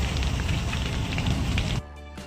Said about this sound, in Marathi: कसला मस्त असा पाऊस पडतोय